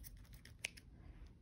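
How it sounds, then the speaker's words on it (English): Scissors snip once through a yarn loop during a paper plate wagon wheel craft, a single crisp close cut amid faint handling noise. "And then I'm just going to cut that loop."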